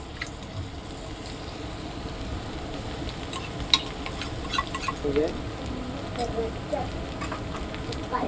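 Ground spice paste sizzling as it fries in a pan for a meat dish, a steady low crackle with occasional sharp pops and a clink of stirring.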